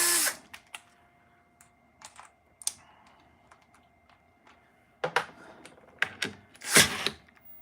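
Short bursts of a 12-volt Bosch cordless drill whirring as it undoes bolts on a vintage washing machine transmission, intermittent and close, with clicks and clatter between the runs.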